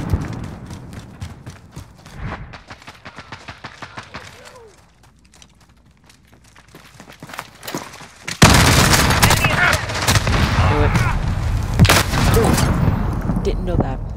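Rapid bursts of gunfire from Call of Duty: Modern Warfare multiplayer, including a 725 shotgun, crackle in scattered volleys that swell into a loud, dense barrage near the end, with a voice talking over parts of it.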